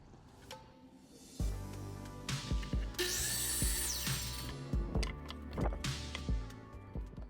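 A miter saw cuts a 10-degree angle across the end of a wooden board: the motor spins up loud and close, the blade bites through the wood, then the saw whines down, followed by a few clunks and knocks.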